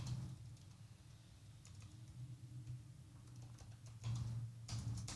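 Typing on an ergonomic computer keyboard, a light patter of key clicks at close range that runs steadily over a low background hum, with a louder burst of clatter near the end.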